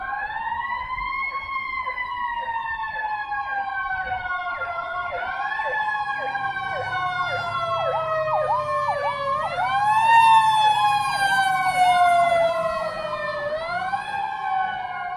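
An emergency siren on a passing vehicle wails loudly and continuously, its pitch sweeping up and down as it swells nearer and then fades slightly.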